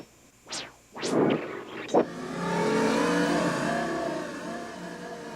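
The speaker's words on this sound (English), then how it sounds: "In creating the cycle sound in the Suzuki commercial" Suzuki motorcycle engine built as a commercial sound effect: several sharp rising whooshes and revs in quick succession, then a sustained, steady engine roar that holds loud to the end, with no talking.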